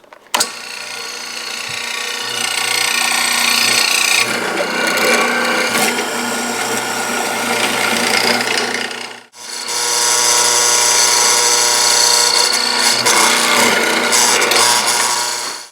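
Power tool cutting a mortise into a wood board, a loud continuous grinding whine that pauses briefly midway and then resumes at full strength.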